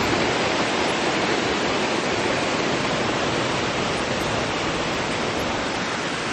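Ban Gioc waterfall roars as a loud, steady, broadband rush of falling water, constant and unbroken throughout with no voices.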